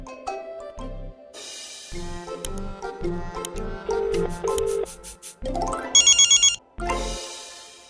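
A telephone ring on speakerphone plays as a melodic electronic ringtone, a loud, tonal sequence of notes with a rapid trilling burst near the end, heard alone without talk.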